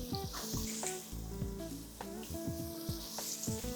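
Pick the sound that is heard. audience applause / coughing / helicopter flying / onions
onions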